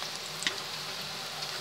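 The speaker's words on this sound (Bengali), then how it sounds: "পাকোড়াগুলো দেখুন ভাজা হচ্ছে," Mixed vegetable pakoras deep-frying in hot oil, an even close hiss of bubbling oil with one faint tick, no speech.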